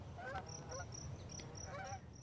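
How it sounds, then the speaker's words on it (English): A flock of geese flying south in V formation honks repeatedly, with several overlapping calls in two clusters at moderate distance, heard alone without talk. "a flock of geese in perfect V formation flew south on the trip that they made every fall"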